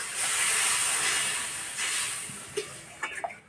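Water poured into spice paste frying in a pan for a Bengali katla fish curry sends up a loud steady hiss that fades over a few seconds, followed by a few small clinks.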